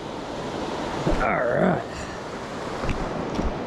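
Fast-flowing water rushes through a fast stretch of the Ausable River near a gorge, a loud, constant wash, briefly under a short spoken remark.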